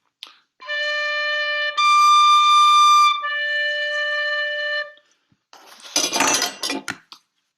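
A tin whistle in D sounds a bright, steady note with all fingers down, held in a few sustained tones with brief breaks, followed by a short burst of clattering noise at the end.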